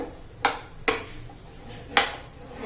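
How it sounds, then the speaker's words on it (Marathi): A knife chopping capsicum into small pieces on a board for pickle, three separate sharp cuts landing at uneven intervals, close and fairly quiet, with no talk. "याचे आपण बारीक बारीक तुकडे करून घेऊया"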